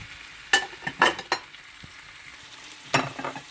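Lobster pieces fry in butter with a soft sizzle, broken by several sharp scraping and tapping sounds of a utensil stirring in the pan, close and without talk.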